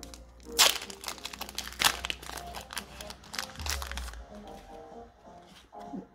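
A Pokémon card booster pack wrapper is torn and crinkled open close up, with sharp plastic crackles and rips in quick bursts over a couple of seconds before it settles into softer rustling.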